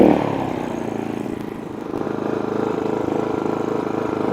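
A GENMAX GM3500Xi open-frame inverter generator runs with a steady, moderately loud engine drone that dips briefly and then settles into an even hum, with no talk.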